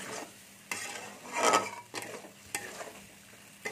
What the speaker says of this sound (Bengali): আমি এগুলো দিয়ে দিচ্ছি একসাথে। দিয়ে এটার সাথে ভালো করে মিশিয়ে নেবো আমি।